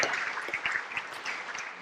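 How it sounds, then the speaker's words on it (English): Moderate audience applause after a panel on groundwater, a brief, dense patter of many hands clapping with a few voices mixed in. "let's have a hand of applause for all of our folks"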